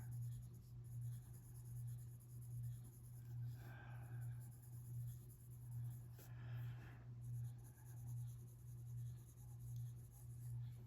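A colored pencil strokes very lightly across drafting film, a faint, soft scratching that comes and goes over a steady low hum.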